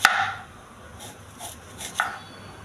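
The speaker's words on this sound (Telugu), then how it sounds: "కొద్ది పెద్ద సైజులో కోసుకోవాలండి పచ్చిమిర్చి" Green chillies being cut into fairly large pieces for a green pea fry, heard as a few soft, crisp knife strikes on a board, one at the start and a couple more about a second apart, fairly faint with no talk.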